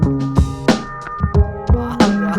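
An intro jingle for the FlipTop rap battle league plays as punchy electronic hits and sustained synth tones in a rhythmic pattern, loud and close, with no talk over it.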